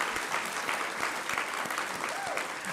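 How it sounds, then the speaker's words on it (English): A university convocation audience applauds in a steady, moderately loud patter of many hands, with some faint voice sounds mixed in. "I think that deserves a round of applause"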